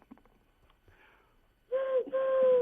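A man imitates the call of a wood pigeon, producing a loud hooting coo in two close phrases right after a stretch of faint background murmur.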